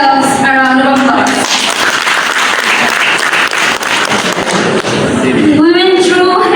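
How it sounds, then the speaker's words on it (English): Loud applause from a large crowd at an agriculture students' graduation, dense clapping filling several seconds, with voices talking briefly at the start and end. "So let's give ourselves a round of applause."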